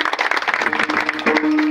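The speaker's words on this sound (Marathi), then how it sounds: "त्यांच्याबद्दल एकदा टाळी वाजवा मला." Audience clapping at a Mahashivratri festival kirtan honouring the women's group who decorated the venue, a brief dense patter of many hands with a sustained tone and voices mixed in.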